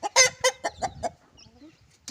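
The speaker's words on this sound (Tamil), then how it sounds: "இது பார்த்தீங்கன்னா கோழியோட லாங்குவேஜ் பா." Domestic village chickens clucking close by, a quick run of five or six loud, rhythmic clucks followed by softer murmuring chirps and one last short cluck.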